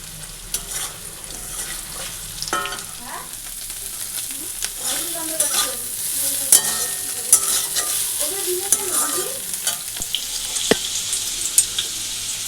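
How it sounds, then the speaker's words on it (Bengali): Potatoes fry in a tempering of whole cumin, bay leaf and green chilli, with a steady sizzle under repeated clattering stirs and scrapes of a spoon against the pan. "আর যে আলু ফোড়ন দিয়ে বসিয়ে দিয়েছি গোটা জিরে আর তেজপাতা কাঁচা লঙ্কা"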